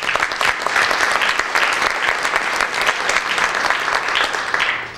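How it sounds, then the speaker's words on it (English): An audience at a workplace conference claps in a dense, steady round of applause that holds loud for about five seconds before it begins to fade, with no speech over it. "Let's give those folks a big round of applause."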